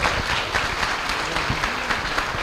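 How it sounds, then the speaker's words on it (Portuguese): A crowd at a regional youth public-policy conference in Goiás applauds the city council president, a dense, close and fairly loud burst of many hands clapping that continues evenly, with faint voices underneath. "quero pedir a todos uma salva de palmas para o nosso presidente da Câmara, André Rocha"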